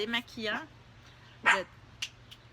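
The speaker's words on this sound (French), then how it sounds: "c'est Titi et Stella qui jappent" Two small dogs yap indoors in a few short, high bursts, a couple of quick yips near the start, another sharp bark midway and fainter yelps after, with quiet gaps between.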